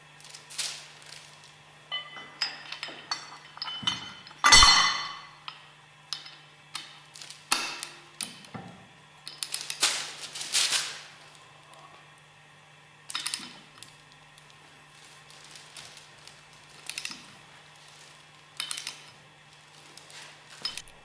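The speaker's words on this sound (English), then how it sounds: "Screw the hex head screw into the motor shaft end and firmly tighten." Metallic ticks, clinks and scraping as a hex head screw is threaded into the end of a motor shaft on a separator and tightened, irregular and close, with no talking.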